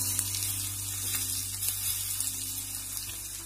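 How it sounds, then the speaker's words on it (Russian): Hot vegetable oil sizzles and crackles steadily up close, a continuous bright hiss with faint pops throughout. "Раскаленное растительное масло."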